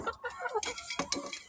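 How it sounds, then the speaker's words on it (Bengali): Two hens cluck in short, uneven bursts, close and fairly soft, with a few sharper calls near the end. "এখানে আছে মুরগি দুইটা,"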